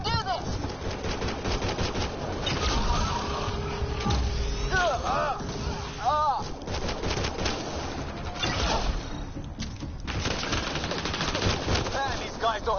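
Automatic machine gun fire from a PS4 shooter game, sustained and dense through most of the span, mixed with chirpy in-game effects and occasional voices over the barrage.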